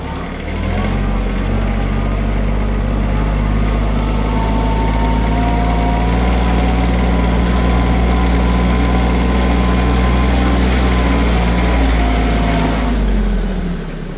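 A walk-behind tractor engine ploughs in raised second gear, running loud and steady throughout, with a constant low drone that fades out near the end.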